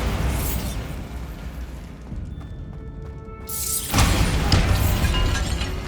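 A Bombarda blasting spell goes off in a tomb in Hogwarts Legacy: after a quieter rumbling stretch comes a loud, sudden explosive burst with shattering debris that rolls on to the end.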